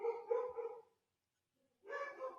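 A dog barks twice indoors, a short burst of several quick yaps, a pause of silence, then another burst, fairly close and clear with no talk.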